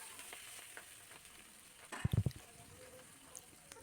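Green chillies, tomatoes and bay leaves fry in hot oil in a wok, giving a faint, steady sizzle with one short, louder burst of sputtering near the middle.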